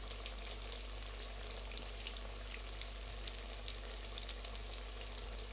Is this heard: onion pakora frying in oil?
yes